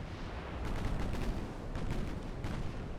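Heavy 12-inch naval guns firing in a video game battle among heavy cruisers, a dense rumbling barrage of distant booms rolling continuously at moderate volume, with no talking.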